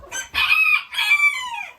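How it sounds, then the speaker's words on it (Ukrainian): A naked-neck hen on a backyard farm gives two close, loud drawn-out clucking calls, alone with no voices. "Голошия курочка"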